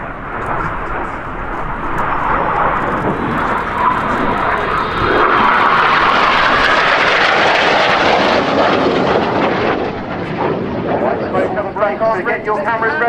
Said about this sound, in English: The jets are in big battle.